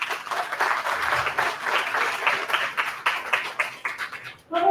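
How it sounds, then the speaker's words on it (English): A room full of people claps for Karthik at a book launch, a dense, steady burst of applause that carries on throughout before trailing off at the very end. "A big round of applause for Karthik."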